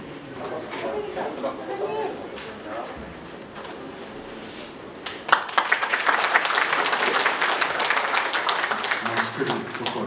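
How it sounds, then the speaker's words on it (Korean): An audience at a book launch and campaign kickoff event breaks into loud, sustained applause partway through, after a stretch of speech and room noise, and keeps clapping steadily to the end. "큰 박수로 환영해 주시기 바랍니다"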